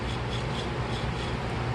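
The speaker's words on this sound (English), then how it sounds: "whatever you can do with the foot rasp, you want to kind of try that to be your main source" Foot rasp scraping along the tread edges of platform shoes, a steady close rubbing rasp for under two seconds without pause.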